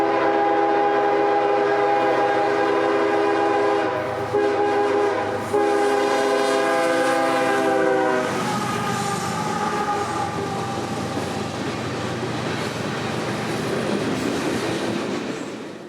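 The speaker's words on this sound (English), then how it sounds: "L698 would crest the hill and into view with a lengthy train from Montgomery today" A lengthy CSX freight train from Montgomery, L698, sounds its horn in loud sustained blasts, then rumbles past with steady rolling wheel noise as it crests a hill near a junction on the M&M Subdivision.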